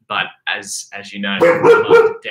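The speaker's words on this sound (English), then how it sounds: "Oh, my dog is barking." A pet dog named Bella barks and yips a few times in short bursts close by, mixed in with a person speaking over it.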